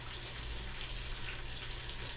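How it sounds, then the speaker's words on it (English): Water runs into a bowl of pancake batter mix with a steady, soft pouring hiss that continues without a break and without any talking. "you just got to add just a little bit of water"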